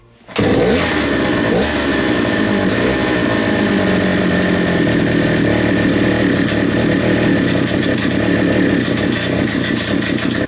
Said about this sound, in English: get your pull start and give it a rev